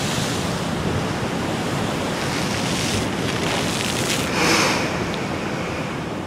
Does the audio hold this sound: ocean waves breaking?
yes